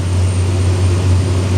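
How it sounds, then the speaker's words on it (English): Twin MAN 1550 horsepower V12 diesel engines drive a Safehaven Marine Voyager T2000 at around 30 knots in rough sea, a loud steady low roar with no voices. "The noise of those twin MAN 1550 horsepower V12 engines."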